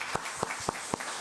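Church congregation clapping in thanks after a Sunday service prayer, heard as four sharp, evenly spaced claps over quiet room tone, fairly faint.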